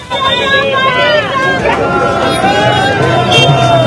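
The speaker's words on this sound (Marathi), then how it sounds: "भाजपच्या दिल्लीतील विजयानंतर नागपुरात सुद्धा जल्लोष सुरू झाला आहे" BJP supporters celebrate outdoors at the Tilak statue area in Nagpur, a loud, close crowd hubbub of many overlapping voices, shouts and chatter filling the whole stretch.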